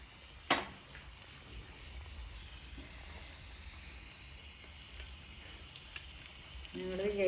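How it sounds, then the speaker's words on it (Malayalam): Onions sautéing in a pan with a spoon, giving a steady soft sizzle and hiss, a sharp utensil knock near the start, and the frying swelling slightly louder at the end. "ഇത്തിരി സമയം എടുക്കും കേട്ടോ ഉള്ളി വഴണ്ടി വരാനായിട്ട്"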